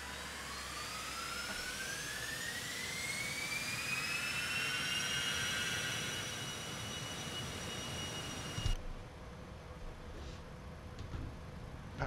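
Citation X jet engines in X-Plane 12 spool up with a rising whine that climbs steadily in pitch and settles into a loud, sustained roar, then cuts abruptly to quieter engine noise.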